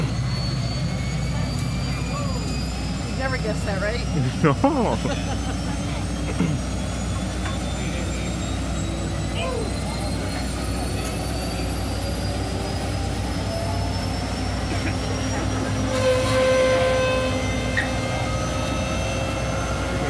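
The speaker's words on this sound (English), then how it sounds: "Turbine engine starting up. This thing is a gas turbine engine." Gas turbine engine of an M1A2 Abrams tank starting up on a cold start, a loud sustained jet-like whine with rising tones and a deep rumble, building steadily while people speak briefly over it.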